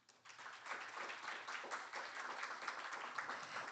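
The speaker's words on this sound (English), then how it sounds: "give the three presenters from Korea, Japan, and Poland another round of applause for their excellent presentations" Audience at a development cooperation forum applauding three presenters, a sustained patter of many hands clapping, fairly soft and even throughout.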